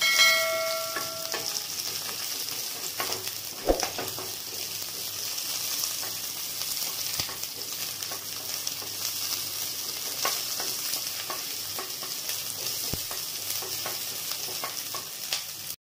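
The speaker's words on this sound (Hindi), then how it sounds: "अब हम डाल देंगे प्याज और अपनी हरी मिर्च इसको बहुत ज़्यादा फ्राई नहीं करना है हल्का हल्का फ्राई करना है" Onions, green chillies, mustard seeds and curry leaves fry in a pan for a masala dosa filling, giving a continuous close sizzle with occasional faint stirring scrapes and small pops throughout.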